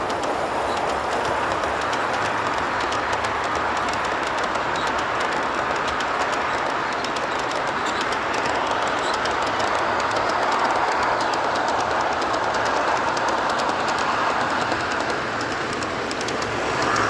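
A G scale model train runs steadily nearby at a large scale train show, a continuous rolling rumble with faint clicking wheels, no talking.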